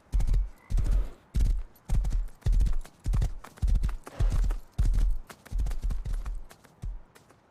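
Hooves clip-clop in a steady, loud rhythm from a video game horse, with about a dozen heavy, evenly spaced beats close by.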